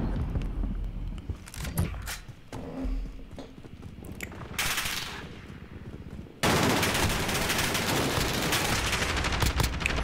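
Gunfire in the video game Call of Duty Modern Warfare: bursts and single shots from nearby weapons, ending in a sustained loud automatic volley that fills the last few seconds.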